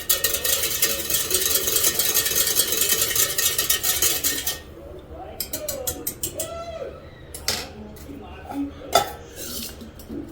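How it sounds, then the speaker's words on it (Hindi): Milk is stirred into a mug, with a spoon scraping and clinking steadily against the sides for several seconds before fading into quieter, intermittent taps amid faint background sounds. "इसमें दूध डाल के इसको मिक्स कर दिया।"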